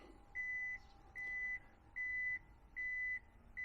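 A power rear gate on a 2013 Toyota Vellfire 2.4 hybrid moves while its warning tone sounds five evenly spaced beeps, each about half a second long, over a faint mechanical hum.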